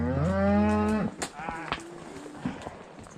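A calf on a mountain cattle-herding trail gives one loud, close moo lasting about a second, followed by hoof clatter and rustling movement with scattered short sounds.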